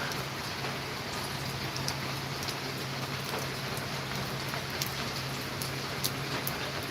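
Heavy afternoon rain in Mumbai, a dense, steady wash of downpour with scattered sharper drop hits and a faint low hum beneath, continuous and without talk.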